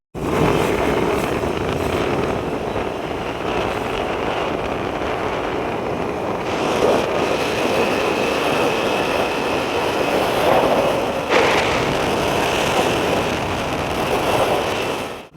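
Steady roar of wind buffeting the microphone on a moving Honda Activa scooter, with a constant low engine and road rumble throughout and no talking.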